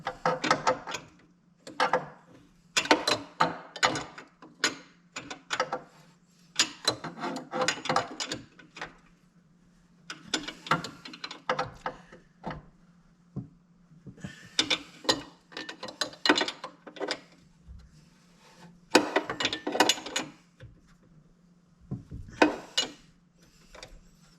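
A wrench tightens a bolt on a Corvair engine after a fan belt adjustment, giving bursts of quick ratcheting clicks broken by short pauses, close and clear with no speech.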